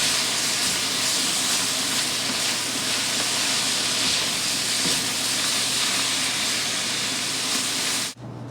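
Lobster bodies and browned vegetables sizzle loudly in a pot while being stirred for a bisque, a dense, constant crackling hiss close by that cuts off suddenly at the end.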